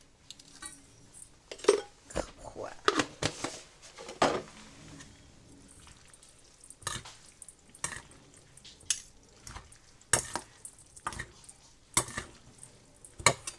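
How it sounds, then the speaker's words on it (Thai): A spoon mixes a spicy Norwegian wild trumpet mushroom salad in a bowl, with irregular close clinks and scrapes separated by quiet gaps, and no speech. "คลุกคลุกให้เข้ากันละจ้ะ"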